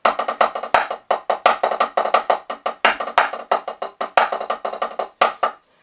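A snare drum plays a quick rudiment pattern of single strokes mixed with grace-note drags, steady and close-up, with no talking.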